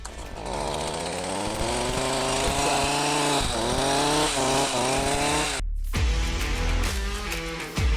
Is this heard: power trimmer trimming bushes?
yes